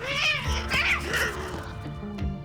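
Cats on La Palma caterwauling loudly and close, with several drawn-out, wavering yowls and wails that overlap and rise and fall across the whole stretch, no voices present.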